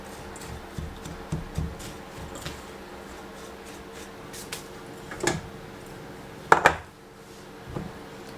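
Breadcrumbs or cookie crumbs are stirred with a utensil for a strawberry rose no-bake cheesecake base, soft scratchy scraping with occasional sharper clinks against the bowl, close and fairly quiet.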